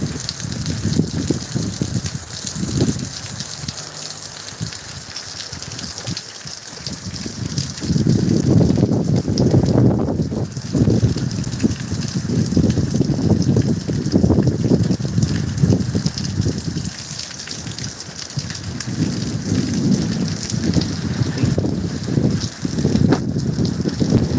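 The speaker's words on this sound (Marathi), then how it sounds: "अशा पद्धतीने अगदी बघा बऱ्यापैकी छान पावसाचं पाऊस पडत आहे" Steady rain pours across the Sahyadri hills, a dense continuous hiss that swells and eases in loud waves over about twenty seconds, with no voices.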